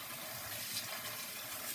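Cold tap water running steadily into a sifter of rice for rinsing, a smooth close hiss of flowing water with no talking.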